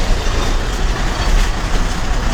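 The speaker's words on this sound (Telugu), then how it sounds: "కొత్తూరులంక బస్సు వేమూరులో బయలుదేరింది" The Kotturulanka bus pulling away from Vemuru, a loud, rough, broadband rumble of engine and road noise heard from inside, steady with no talking.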